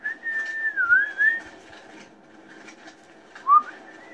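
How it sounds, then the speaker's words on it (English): A person whistles a slow wavering tune for about a second and a half, then gives a short rising whistle after a pause, near and moderately loud over a low background hum, with no talk. "my whistling's getting bad"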